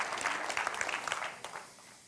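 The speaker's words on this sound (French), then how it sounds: "un autre bon applaudissement pour les soucis qui viennent avec la bénédiction" A church congregation applauds with a dense wash of clapping that holds steady, then thins and fades away toward the end.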